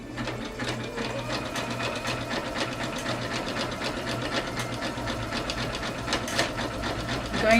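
A sewing machine with a heavy-duty needle and all-purpose thread stitches around the edge of a purse pocket, running steadily with a rapid mechanical patter close by for several seconds, no talking.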